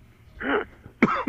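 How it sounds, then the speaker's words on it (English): Two short close coughs on a radio broadcast, a throat-clearing cough followed by a sharper one, with brief silence between. "you've coughed on the air"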